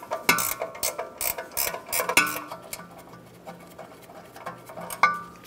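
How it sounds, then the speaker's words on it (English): A ratchet clicks rapidly while loosening a 13 mm brake line bracket bolt on a 2014-2018 Chevrolet Silverado 1500, with bursts of close metallic ratcheting, brief pauses and a sharper clack near the end. "Remove the 13 millimeter bolt for the brake line bracket."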